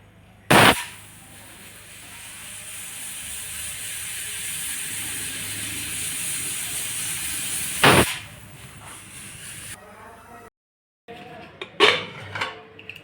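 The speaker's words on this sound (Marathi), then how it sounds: "आता मी ह्याला 2 शिट्ट्या काढणार आहे फक्त" Pressure cooker with ridge gourd curry inside gives two loud whistles, each a sharp burst followed by a long, steady steam hiss, then clinks of the pot afterward.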